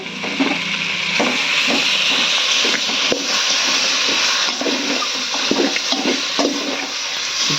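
Chicken pieces frying in hot oil at home, giving a steady loud broadband sizzle with crackling pops throughout and no talk.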